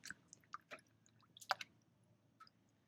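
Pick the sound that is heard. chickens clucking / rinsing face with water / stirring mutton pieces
rinsing face with water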